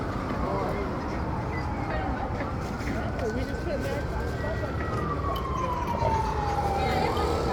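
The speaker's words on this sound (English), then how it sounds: "they got the ambulance coming out here." A distant ambulance siren wails slowly up and down beneath loud, continuous New York street noise and people talking nearby.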